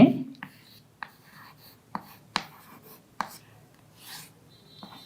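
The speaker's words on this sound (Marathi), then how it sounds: "बघा मी ते वाक्य लिहितो इथे" A sentence is handwritten on a surface in a Marathi language lesson, with soft scratching strokes and several sharp taps as the writing tool touches down, close and fairly quiet.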